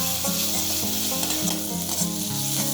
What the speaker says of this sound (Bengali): দিয়ে আমি এটা এবার ভালো করে কষিয়ে নেব।